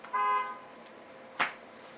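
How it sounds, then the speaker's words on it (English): Car horn honking outside, a sustained tonal blare of about half a second followed by a brief sharper burst, moderately loud and somewhat distant with no talk. "can you just stop honking"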